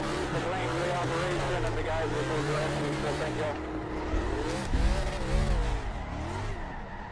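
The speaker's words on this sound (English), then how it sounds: "I'm gonna do some burnouts here on the AAA logo" Stock cars doing burnouts on the AAA logo in NASCAR Racing 2003, with engines revving in rising and falling sweeps and tires squealing. The sound is loud and continuous, and a voice talks over it.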